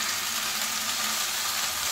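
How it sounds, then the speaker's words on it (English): Steak searing in a very hot pan with olive oil, a steady, bright hiss of sizzling fat that holds evenly close by throughout. "drop the steak in, lay it away from you, look for that nice sizzling sound"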